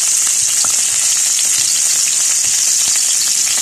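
Ingredients sizzle steadily in hot oil in a pan, a dense, continuous crackling hiss with scattered pops, close and loud with no talking.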